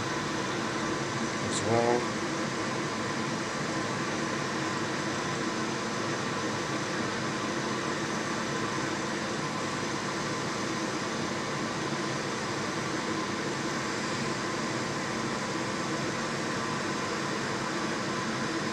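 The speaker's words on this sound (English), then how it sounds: "We're just using a hot air nozzle" A hot air nozzle desoldering the USB-C port on a Nintendo Switch board gives a steady, close, even rushing hiss that runs unbroken throughout, with a brief faint voice early on.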